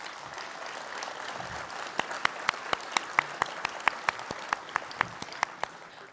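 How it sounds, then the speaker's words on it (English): Audience applause at a community coffee gathering, a soft crowd patter that turns into one person's loud, close, evenly spaced claps standing out over the rest before fading at the end. "Can we give her a round of applause"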